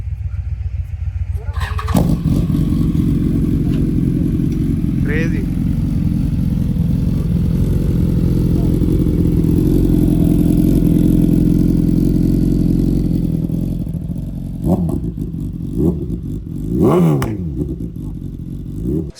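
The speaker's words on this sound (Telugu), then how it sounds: "ఒకసారి S1000 ఎగ్జాస్ట్ నోట్ వినిపిద్దాం మీకు" A BMW S1000 superbike engine fires up and holds a loud, steady idle with a deep exhaust note close by, dropping off near the end as a voice briefly speaks.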